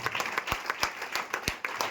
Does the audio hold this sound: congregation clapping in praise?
yes